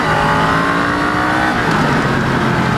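A fuel-injected Honda Rebel motorcycle accelerates hard, its engine a loud, steady, close roar that climbs in pitch over a few seconds.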